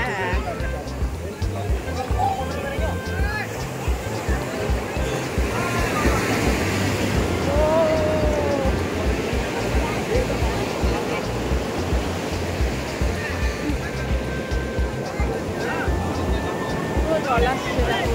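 Water washing in as waves at a muddy shoreline, a steady broadband rush of surf that continues throughout, with people talking and calling out over it.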